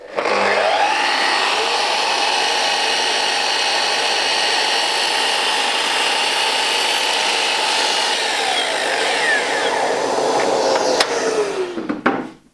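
Power saw slicing a piece of wood for a bookcase, one loud sustained cut with a steady whine that winds down at the end.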